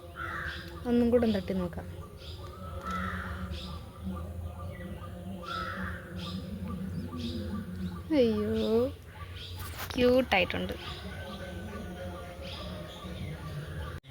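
A baby bird cries with its beak open, giving a few high, thin calls in short bursts close by while a person talks softly and steadily over a low background hum.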